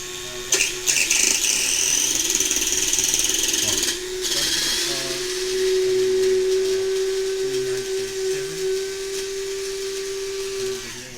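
A slot car motor with a loose spur gear revs in a steady high whine that rises in pitch midway and holds, with faint background noise and clicks throughout.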